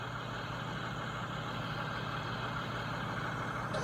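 A construction vehicle engine idling in a kids' app, a steady, continuous low rumble with an even drone that holds at a constant level throughout, with no voices.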